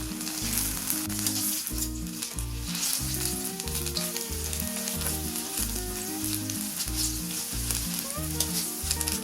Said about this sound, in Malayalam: ഒരു മീഡിയം ഹീറ്റിലിട്ടിട്ട് ഇതൊന്ന് നന്നായിട്ടൊന്ന് പൊരിച്ചെടുക്കാം